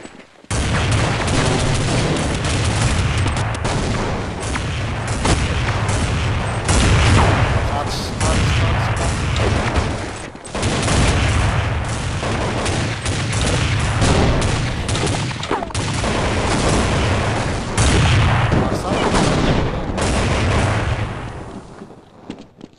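Counter-Strike 1.6 gameplay with dense, continuous bursts of rapid gunfire and booming grenade explosions, loud and busy throughout, mixed with game sounds and occasional voices.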